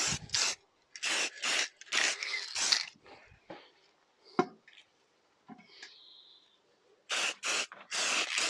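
Aerosol spray paint hissing onto Piaggio NRG scooter forks in short, close bursts, several quick sprays, then a quieter gap with light handling sounds, then more bursts.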